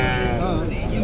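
Goats and sheep bleat at a crowded livestock market in Hyderabad, Pakistan, a near, wavering bleat rising over the constant chatter of people talking.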